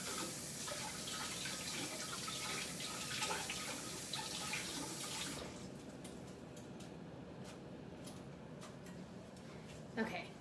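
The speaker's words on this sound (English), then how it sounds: "So I'm just gonna rinse it off real quick and I'll be right back." Fresh broccoli rinsed under a running kitchen tap: a steady close rush of water for about five seconds, then it cuts off, leaving light drips and small clatters.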